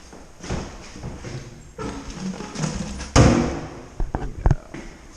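A door is pulled open with a heavy thud, followed by a few sharp knocks and rattles of the door and frame at close range.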